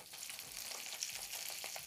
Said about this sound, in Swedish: jag kommer steka den på skinnsidan